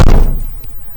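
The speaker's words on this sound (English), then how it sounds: "There's just a bit of pressure pushing against the deadlock where I've tried to open up the door." A van's side door on a Vauxhall Vivaro, Renault Trafic or Nissan Primastar is pushed against its fitted deadlock, giving one loud, close thud that quickly dies away.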